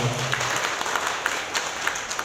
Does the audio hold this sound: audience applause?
yes